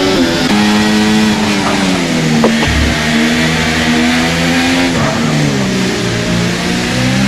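Sim racing car engine in a virtual racing league race, revving steadily with clear harmonic tones that rise and dip through gear changes, loud and continuous throughout.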